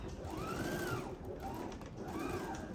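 A sewing machine stitches fabric for a box pouch, a faint, steady mechanical whir with soft rhythmic motor swells, heard alone at low level.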